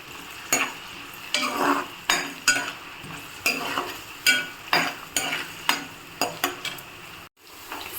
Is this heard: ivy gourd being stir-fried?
yes